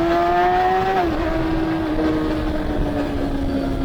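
A racing motorcycle on a track drops a gear going into a corner, its steady engine tone stepping down in pitch and then easing lower, loud and close under wind noise.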